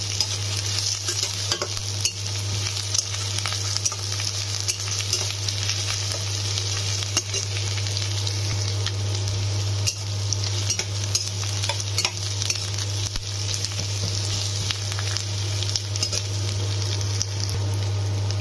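Chopped onions fry in a pan for a country chicken curry, a continuous close sizzle with stirring scrapes throughout and a steady low hum beneath.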